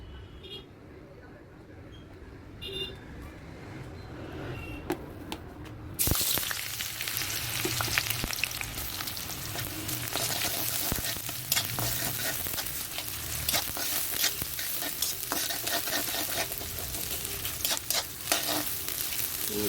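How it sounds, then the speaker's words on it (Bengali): Onions go into a kadai of hot oil for khichuri: a quiet kitchen gives way to a sudden loud sizzle, then steady frying with scraping stirs and occasional clanks. "কড়াইতে পেঁয়াজ দিয়ে দিচ্ছি পেঁয়াজটা ভাজা হলে চালগুলো একটু ভেজে নেব"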